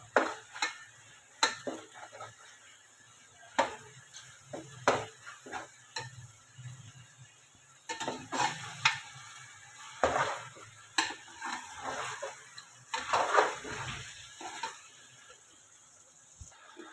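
Ginger garlic paste fries in a karahi for a desi chicken karahi, with soft sizzling under intermittent scraping and clinking of a spoon against the pan, fairly close and moderately quiet.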